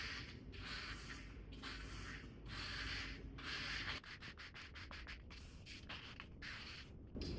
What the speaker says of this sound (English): I'm just going to have an angle my squeegee down pretty far from the center and work out towards the edge